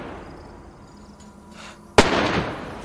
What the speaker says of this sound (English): I'm shooting through the fence.